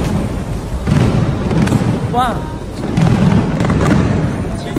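New Year's Eve fireworks burst over Marina Bay Sands in Singapore, a few distant, muffled booms spaced about a second or two apart beneath a nearby crowd's chatter and an exclamation.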